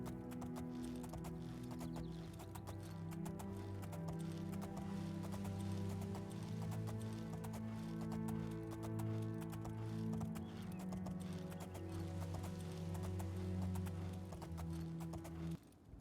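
Horse hooves clip-clop steadily in a video game, a continuous even trot heard up close beneath a layer of droning game music and ambience.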